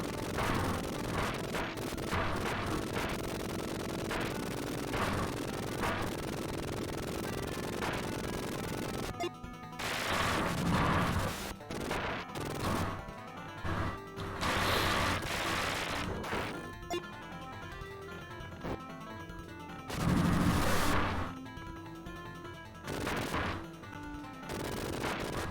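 Gunfire from the Sega Genesis video game Rambo III, bursts of rapid shots and crashing explosions mixed into busy game music, loud and repeated across the clip.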